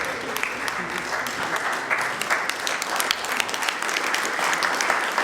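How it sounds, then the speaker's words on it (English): An audience claps warmly at an art show held during the Cloverdale Rodeo, continuous dense applause with a few sharper individual claps standing out, brisk and fairly loud throughout. "You can applaud."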